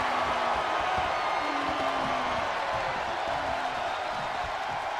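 Wrestling crowd at Wrestlemania 27 in WWE 2K24 cheering during a John Cena vs. Batista No Holds Barred match, a steady roar of noise that holds evenly through the whole stretch at moderate level.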